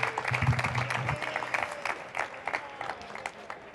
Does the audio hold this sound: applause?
yes